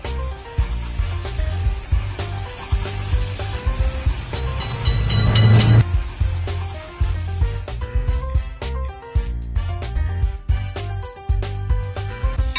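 Over bouncy background music in a children's crossing-gate game, a cartoon train roars by in a brief loud burst of about a second and a half, then the tune continues alone.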